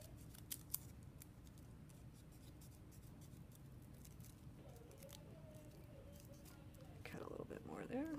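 Scissors snip through folded paper to make a paper snowflake, with quiet, close clipping sounds. A person speaks softly near the end.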